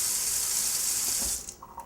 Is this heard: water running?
yes